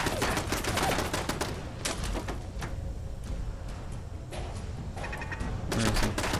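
Turret gunfire in Fallout 4 crackles as rapid bursts of shots, dense at the start and again near the end, over a steady layer of game noise.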